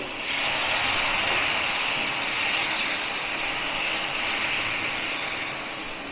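Water poured into a hot pan of spiced chicken with Kashmiri red chilli powder, giving a loud, steady steaming hiss that swells quickly and then holds, slowly easing off toward the end, with no talking.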